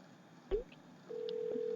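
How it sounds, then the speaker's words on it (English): A phone dials a cell phone number, a single click followed by a faint steady tone with brief beeps, quiet and alone. "Dial my cell phone number again to show you. Hit dial now."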